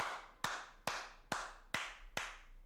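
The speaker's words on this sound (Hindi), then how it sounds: "ताली 5 बार।" Five sharp, evenly spaced hand claps ring out alone, each with a short decaying tail.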